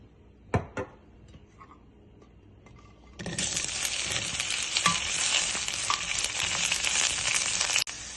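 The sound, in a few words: okra sautéing in oil in a pan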